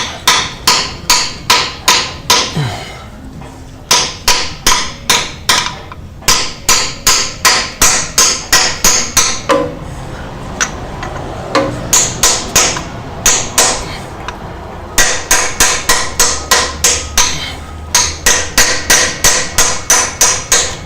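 Rapid, regular hammer taps drive a bushing tool into a car's extension housing, ringing close and loud in long runs, pausing briefly between bursts, the strikes sharp and metallic.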